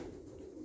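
Pigeons cooing in a loft: a soft, low, steady coo heard briefly and faintly, with no talk over it.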